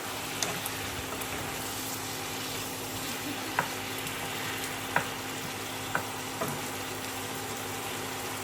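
Chicken bhuna sautéing in a pan, a steady close sizzle with a few sharp spatula clicks against the pan, no voices.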